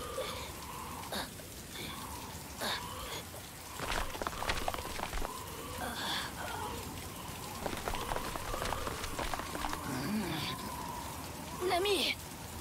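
Steady rain falls throughout a stormy anime scene, a dense hiss of drops on surfaces with occasional louder splashes and bursts, while characters speak over it.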